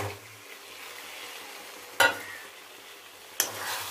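Potatoes go into a pan of spice masala already fried until deeply colored. Two abrupt bursts of loud sizzle break a quiet, faint frying hiss, each followed by a low rumble of cooking, and there is no speech.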